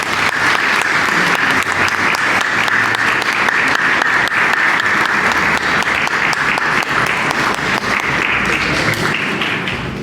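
Sustained applause from a church congregation at a solemn Eucharist in Vila do Porto, dense hand clapping that stays loud and even for the whole stretch and tapers only slightly at the end.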